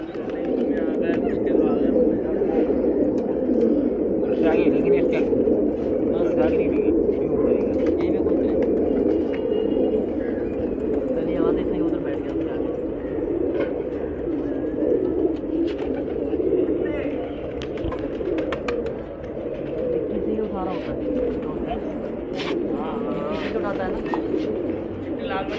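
Pigeons coo steadily and close through the whole stretch, a dense flock of desi jungle pigeons kept by a fancier, with occasional chirps and faint human talk mixed under the continuous murmur.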